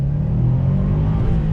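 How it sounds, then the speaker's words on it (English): A 2019 Subaru WRX STI S209 accelerates on throttle, its engine giving a loud, steady low rumble with a droning exhaust tone and no talk over it. "let's go ahead and do an acceleration test here while we have some time"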